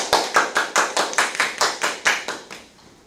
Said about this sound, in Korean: 다시 한번 손박수 부탁드립니다